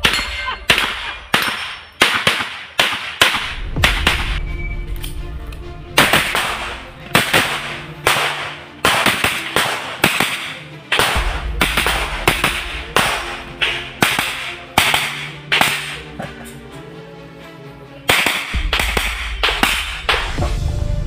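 Gunshots ring out at a practical shooting match, sharp loud cracks firing in rapid strings with short pauses between them, some bursts close together and echoing across an outdoor range.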